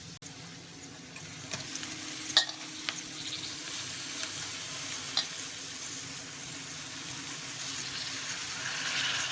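Spinach-and-dal dish base frying after salt and chili powder go in, stirred in the pan: a soft continuous sizzle under a few sharp scrapes and clinks of the spoon, close up and without talk.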